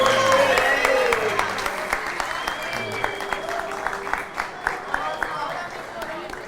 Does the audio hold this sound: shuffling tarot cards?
no